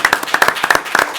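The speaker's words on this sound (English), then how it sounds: "I think that we owe him a good round of applause for his service" A small group claps at a city commission meeting in Ocoee, distinct individual handclaps in a loose, uneven rhythm, close and fairly loud, briefly sustained.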